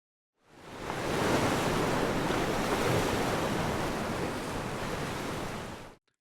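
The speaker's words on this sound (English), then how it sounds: "rising tides, crashing waves, and darkening skies" Loud, steady roar of crashing ocean surf mixed with wind, a dense wash of noise that swells in quickly, holds constant for several seconds, then cuts off, with no voices.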